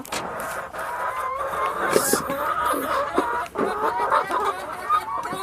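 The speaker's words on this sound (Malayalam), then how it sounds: "കോഴി മാറ്. മുട്ടയിടാൻ കേറിയതാ." A hen settled on her nest to lay eggs gives soft, repeated clucks and murmurs, close by, with other fowl noises mixed in and no talk.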